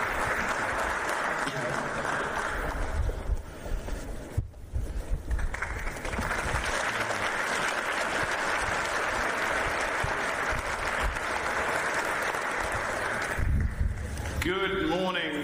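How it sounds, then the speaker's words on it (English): A packed conference hall at a NATO morning session gives a panel sustained applause, with dense, even clapping that carries on for many seconds before it gives way to voices near the end. "I really promised him a rousing applause from everyone here."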